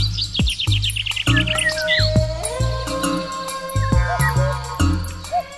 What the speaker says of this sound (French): les oiseaux d'eau égayent les rivières et plans d'eau d'Ariège de leur plumage et de leurs chants variés